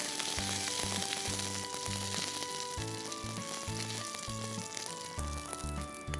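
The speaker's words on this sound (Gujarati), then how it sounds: "રઈ તતડી ગઈ છે, હવે એમાં અડદની દાળ એડ કરીશું" Urad dal and mustard seeds frying in ghee give a steady, close sizzling hiss that runs throughout, partly masked by louder background music.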